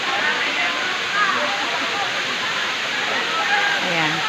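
Daranac Falls in Tanay, Rizal pours in a steady, loud rushing roar of falling water, continuous and close, with sloshing splashes in the foreground.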